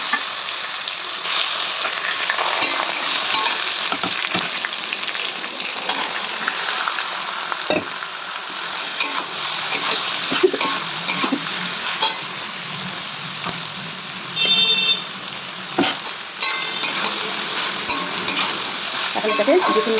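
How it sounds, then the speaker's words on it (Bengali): Potatoes and soybean chunks fry in a pan with bay leaf, cinnamon and small cardamom, giving a steady loud sizzle with frequent stirring scrapes and clinks throughout. "এখন এর মধ্যে দিয়ে দিব হাতের মাখানো আলু আর সয়াবিন।"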